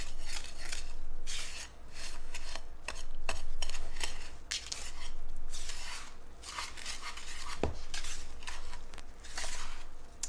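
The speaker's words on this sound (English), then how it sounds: "And we're going to mix all this together." Cake batter with a whole can of crushed pineapple and its juice being stirred in a bowl, wet scraping and sloshing strokes repeating in uneven rhythm, close and fairly loud, with occasional clinks of a utensil against the bowl.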